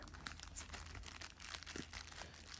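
Paper found in the pocket of an Exped Dura 8 stuff sack crinkles and rustles softly and continuously at close range, with no talk over it.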